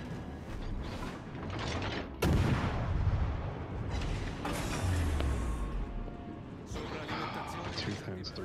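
Naval artillery salvos from warships in the World of Warships: Legends game, a heavy boom near the start followed by rumbling gunfire and explosions under someone talking.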